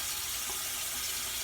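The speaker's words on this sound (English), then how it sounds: "So I'm going to rinse that off. And I'm going to rinse it out." Steady rush of running tap water as a makeup brush is rinsed under it, close, continuous and fairly loud, with no talking.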